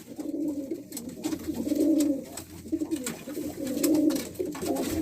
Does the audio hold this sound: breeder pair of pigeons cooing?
yes